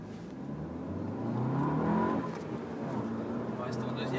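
A Seat Leon Cupra 280 on the Dreux race circuit accelerates with a steady engine roar that swells and peaks, then holds, heard from inside the car with voices beneath.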